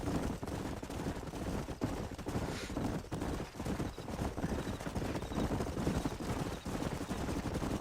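Horses galloping across a canyon in the western video game Red Dead Redemption, a rapid continuous drumming of hooves at moderate distance, with no speech over the steady pounding.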